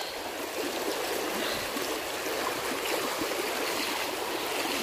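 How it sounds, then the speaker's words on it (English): River water rushes steadily around a wader's boots, a loud, continuous broadband flowing wash close by, with no pauses and no talk. "Back up now against the flow of water, which is quite tricky."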